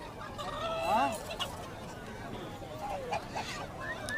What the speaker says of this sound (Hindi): और ये मुर्गियाँ देखें, मुर्गे, असील मुर्गे भी हैं यहाँ पर